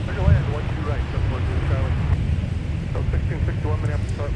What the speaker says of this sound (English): So we are getting some departures taxiing by us on Whiskey.